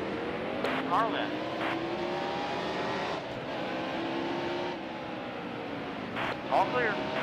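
NASCAR-style stock cars at the 2017 Toyota Save Mart 175 Monster Energy Cup race drone steadily as they race, with a loud passing swell near the start and end and a continuous engine roar between.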